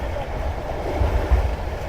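Pakistan Express passenger train running on rails near a roadside station, a steady low rumble and rolling noise with slight surges, heard close and continuous with no talk.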